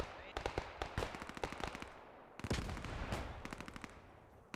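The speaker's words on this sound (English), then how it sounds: "Zoid doing suppressive fire." Suppressive fire in the World War II shooter Post Scriptum: two long, loud bursts of rapid automatic gunfire with a brief gap between them, the shots close and punchy.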